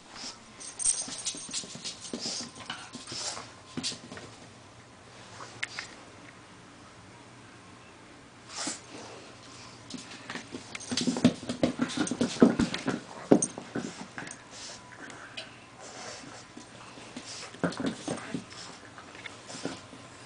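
A puppy whimpers and scratches close by in short, uneven bursts, with a bit of panting between the sounds.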